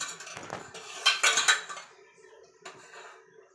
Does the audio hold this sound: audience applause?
no